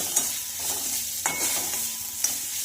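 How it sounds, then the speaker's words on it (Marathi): A spoon scraping and stirring mustard seeds, turmeric and salt in a hot pan, with a soft steady sizzle and a few sharp clinks against the metal, close and quiet with no talking. "थोडी मोहरी, हळदी पावडर, चवीनुसार मीठ आणि छानपैकी असं फिरून घ्यायचं आहे हलक्या हाताने"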